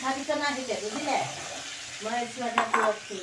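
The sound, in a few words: potatoes frying with spices in a pan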